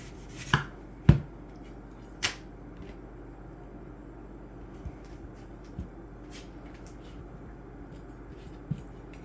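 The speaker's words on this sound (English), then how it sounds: "Cut these up into some cubes." A kitchen knife cutting ingredients into cubes on a board for homemade chili: a handful of sharp, isolated chops spaced irregularly against a quiet room.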